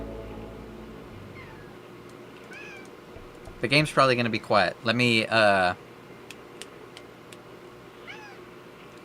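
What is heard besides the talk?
cat meowing, crying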